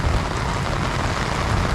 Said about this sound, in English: It's only been raining about an hour.